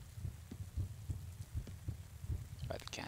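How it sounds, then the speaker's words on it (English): Heartbeat in the horror video game Kidnapped: a steady low double thump repeating about every half second, fairly loud and close, with a brief brighter burst of other game sound near the end. "Heartbeat's going up."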